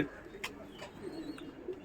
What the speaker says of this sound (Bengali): এই পায়রাটা আট বছর বয়স হয়ে গেছে